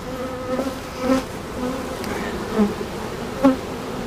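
Honey bees buzzing at the front entrance of a hive after an inspection in summer, a steady droning hum with louder passes as individual bees fly close to the microphone, no talking.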